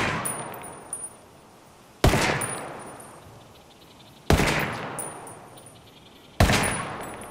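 Three loud, sharp MK17 rifle shots in Ghost Recon Wildlands, fired at a target about 50 meters away, spaced roughly two seconds apart, each ringing out with a long echoing tail, and no talk.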